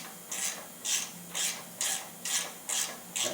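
A ratchet wrench clicks through seven evenly spaced bursts while unscrewing a bolt on a 1971 Honda CB175 motorcycle, each burst a crisp metallic ratcheting close by, with no talk.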